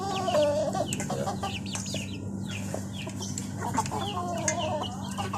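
Several backyard chickens cluck and chatter close by in a small coop, short repeated calls overlapping over a steady low hum, with no talking.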